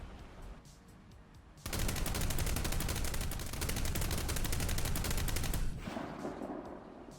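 A commander's pintle-mounted 12.7mm machine gun on a T-80BVM tank in War Thunder fires a long, rapid burst of evenly spaced loud shots, starting suddenly and ending before a quieter tail of ambient rumble.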